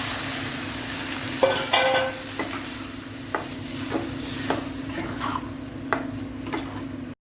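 Water poured into a frying potato, pea and soybean curry, raising a sharp hiss over the steady sizzle, followed by repeated stirring scrapes against the pan; no voices.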